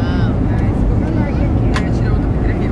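Steady, loud airplane cabin rumble just after takeoff on a flight to Porto Seguro, a continuous broadband roar that fills the whole clip with voices talking faintly underneath.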